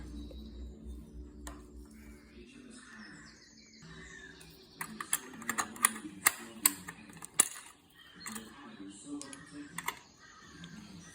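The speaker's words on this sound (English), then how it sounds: "use this tool, just a little grabber, to grab the keys and pop them out one by one" Keycaps on an Amiga 1200 keyboard being prised off one by one with a small key puller, a quiet run of sharp plastic clicks and pops close up, faint and brief, at a low overall level.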